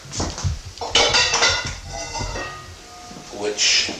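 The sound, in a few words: bowl being set down in a kitchen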